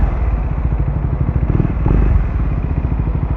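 A Triumph Speed 400 motorcycle with a Muff City slip-on exhaust rumbles steadily up close, a deep throaty exhaust burble, gruff but not blaring, that swells slightly midway.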